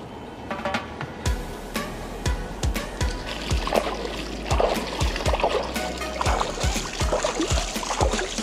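Bicycles being washed in the Kutu Dere creek in Tunceli, with continuous splashing and trickling water and repeated sharp splats as water is thrown, fairly close and steady throughout.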